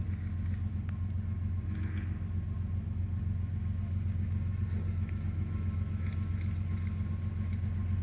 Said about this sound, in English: Looks like an Autorack train.